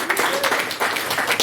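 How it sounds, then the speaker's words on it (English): Applause at a school debating competition, a roomful of hands clapping densely and continuously at moderate loudness for a brief burst. "So another round of clapping."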